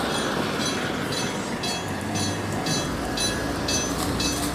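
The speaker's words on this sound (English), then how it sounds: "Oh, the train's here." An Enoden train rolls through Japan's sharpest curve, sounding close and steady with a rumbling rail noise and a regular series of rhythmic clacks, as a crossing bell rings alongside.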